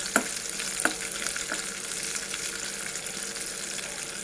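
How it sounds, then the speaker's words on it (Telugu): Urad dal and chana dal fry in hot oil, producing a steady crackling sizzle with a few sharp pops early on, close and continuous with no voices. "కాస్త మినప్పప్పు కాస్త శనగపప్పు ఫ్రై అయితే చాలా బాగుంటుంది కరకరలాడుతూ"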